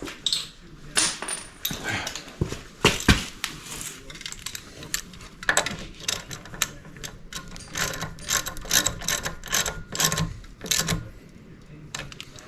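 A socket wrench ratchets while tightening a bolt on a 1970 Chevelle, giving rapid, close clicking bursts that start and stop repeatedly with short pauses between them, alone without talk.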